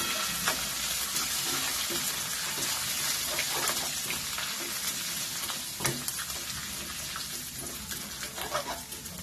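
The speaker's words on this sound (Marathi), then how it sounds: "आता गॅस बारीक करायचा, हे मिश्रण चांगलं हलवायचं" A spice mixture for brinjal kadhi with chillies and curry leaves sizzles and fries in a pan over low gas, a dense steady crackle with scattered scrapes and clicks as it is stirred.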